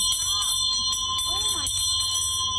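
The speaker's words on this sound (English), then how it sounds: "the bell calls attention" A handbell rings repeatedly in a steady pattern at an outdoor July 4th reading of the Declaration of Independence, loud and close, with a constant hum and faint outdoor background underneath.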